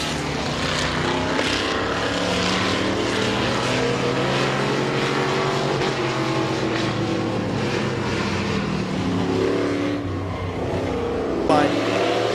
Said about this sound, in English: Down into turn number 1, Martin battles back on the bottom.